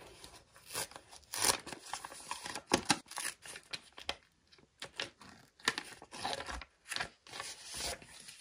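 Crinkly paper rustling and tearing, irregular bursts of crackling and ripping close up, with no talking.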